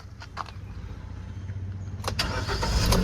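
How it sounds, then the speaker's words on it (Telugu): A 2016–17 Hyundai i20 Magna Sports hatchback starts with a brief crank and a few clicks, then the engine catches and settles into a low, rising idle close by. "సో నేనైతే ఇంజన్ అయితే స్టార్ట్ చేస్తున్నా, మీరు చూసుకోవచ్చు."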